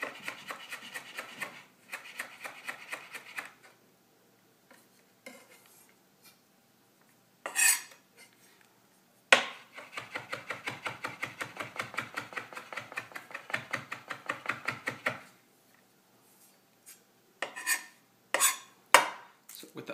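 A knife chops rapidly on a cutting board through smashed garlic, in bursts of quick close tapping and scraping separated by short pauses, loud and clear with no talk.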